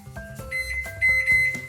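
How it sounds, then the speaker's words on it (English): A microwave oven's keypad beeps as its timer is set to cook a sweet potato: a series of short, bright electronic beeps close by, with no talking. "now I'm gonna take it and put it in the microwave"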